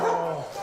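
A dog gives one short, loud bark close by, alone, with no talking.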